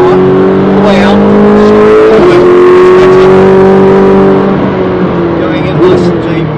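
A race car at the Brands Hatch Indy circuit, on a wet, drying track, powers out of a corner with a loud, rising engine drone and a couple of brief gear changes, heard from on board.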